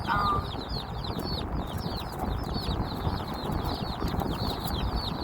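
Two boxes of newly hatched chicks carried in a moving vehicle give a dense, continuous chorus of high cheeping, steady throughout over a low rumble of road noise.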